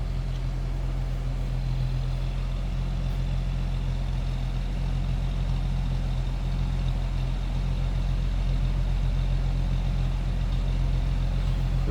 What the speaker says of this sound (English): Slip around to the back so you can hear this run.